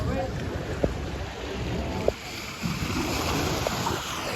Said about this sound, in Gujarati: જોઈ લો મોજા આવે હો સનન થતું